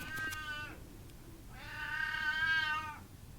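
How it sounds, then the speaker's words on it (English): An elderly cat named Peter gives two drawn-out, whining meows for food, a short one and then a longer one, heard quietly indoors with a faint background hum. "He's meowing for food,"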